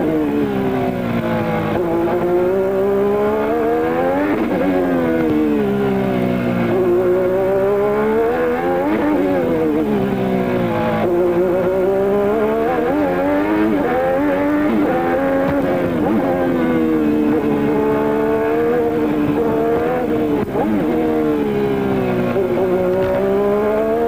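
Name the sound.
Formula One race car engine on onboard lap, Australian GP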